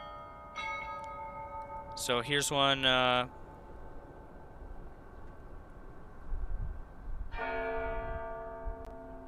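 Church bells ring out twice from a live outdoor camera, a short bright cluster of chimes followed later by a longer sustained peal, heard at a distance over steady wind and background noise, with someone briefly speaking.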